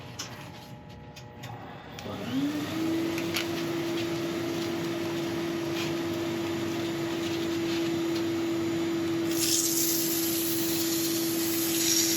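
An air extraction unit runs steadily in a woodturning workshop while thuya burl is turned, a constant motor hum with a whirring tone that starts after about two seconds and holds level and fairly loud throughout, no talk.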